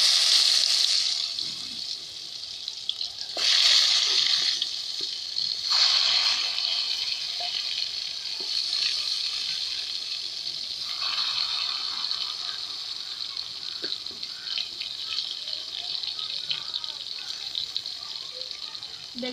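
Sliced eggplant hits hot oil in a village Bengali kitchen, sending up a loud hiss that surges sharply several times, then settles into a steady, bright sizzle that continues for a long stretch.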